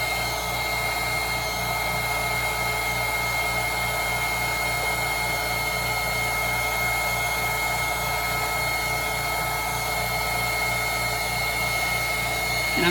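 A heat gun blows on resin with a continuous, steady whirring roar that stays close and loud throughout, without breaks and with no talking.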